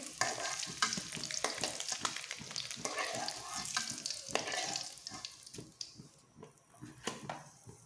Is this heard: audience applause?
no